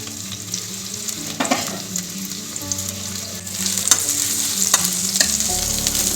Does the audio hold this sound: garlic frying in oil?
yes